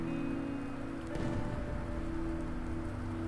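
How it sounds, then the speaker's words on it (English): Steady rain patters in the ambience of the war survival game This War of Mine, a dense continuous hiss of drops with a faint low rumble beneath, heard alone without voices. "it kind of feels like it's raining or something"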